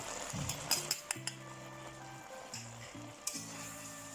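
Pork and cabbage being stir-fried in a pan, with a steady quiet sizzle, scraping stirs and a few sharp clinks of a utensil against the pan, alone without talk.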